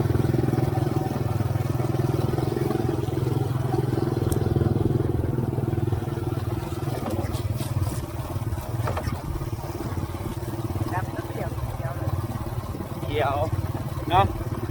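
A motorbike ridden on a rainy day in rural rice-farming country, its engine a steady, close, mid-pitched drone throughout the whole stretch, with faint voices over it.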